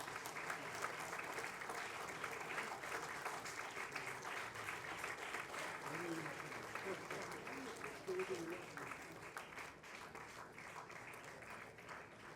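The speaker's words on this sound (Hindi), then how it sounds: "तालियां" Sustained audience applause at a Hindi literary festival's opening session in Hyderabad, a dense steady wash of clapping lasting throughout at even loudness, with a few indistinct voices faintly mixed in near the end.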